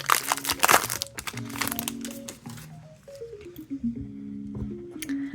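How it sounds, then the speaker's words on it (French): Magic card booster pack wrappers crinkling and tearing open up close in dense bursts, followed by quieter handling with scattered tonal beeps in the background. "il nous reste 2 boosters à ouvrir"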